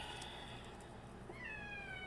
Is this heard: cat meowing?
yes